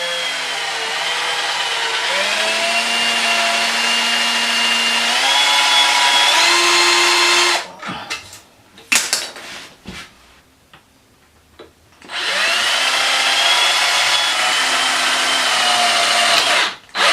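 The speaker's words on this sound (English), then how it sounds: "let's go and let's drill it again" Power drill boring a hole into a Xiaomi Pro 2 electric scooter, a loud steady whine rising in pitch in steps, cutting out for a few seconds of clatter before the drill runs again loudly.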